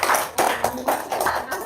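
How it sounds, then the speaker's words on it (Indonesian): Short, loud bursts of hand clapping sound in a quick, uneven rhythm at close range, with voices speaking in between. "Tepuk tangan dulu dong."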